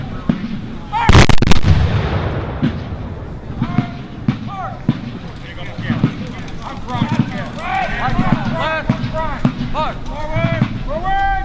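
Confederate reenactors fire muskets to clear their weapons, sending out one loud, sharp blast close by early on, followed by fainter scattered pops while people talk and call out loudly nearby.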